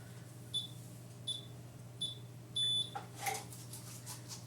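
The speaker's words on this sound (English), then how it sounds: "Wait for 3 little beeps." A heated hair roller device gives three short, high electronic beeps spaced evenly and close by, followed by a faint rustle of handling.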